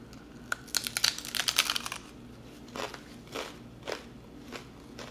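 Crisp, close crunching bites into a baked hard taco shell in a quick cluster, followed by a few slower, quieter crunches as someone chews.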